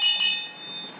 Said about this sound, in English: he will ring a bell